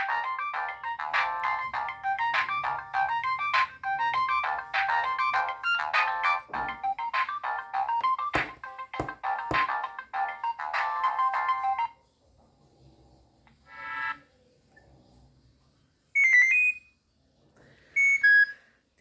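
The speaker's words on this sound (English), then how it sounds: "This used to be my favorite ringtone of many people then." A long bright electronic Nokia 3230 ringtone melody plays for about twelve seconds, followed by short beeping tones and brief snippets of other ring tunes.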